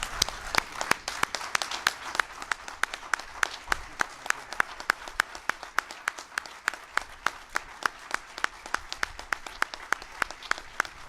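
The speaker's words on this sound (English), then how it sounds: "Can we give Bob Mueller and Ann one more big round of applause?" An audience gives a sustained round of applause, dense steady clapping throughout at moderate distance, with no voices over it.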